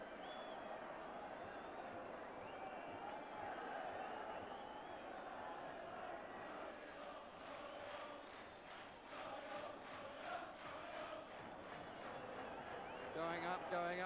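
A football stadium crowd roars in a steady, continuous wash of cheering and chanting during the closing moments of a match, with a commentator's voice over it.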